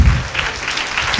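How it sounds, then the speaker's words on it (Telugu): A church congregation claps loudly, a close, dense burst of applause that runs through the whole moment with no talk over it. "చప్పట్లు కొడతారా గట్టిగా?"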